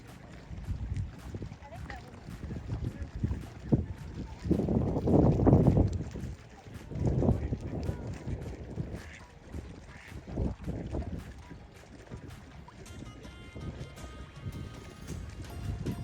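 Rented boat moving across open water in Slovenia, with steady wind buffeting the microphone, low engine and hull rumble, and water sloshing that swells loudly midway before settling back into a continuous droning wash.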